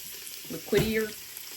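Chili ingredients hit a hot pot with ground beef, giving a short burst of close sizzling and frying that swells and then settles, with no voices.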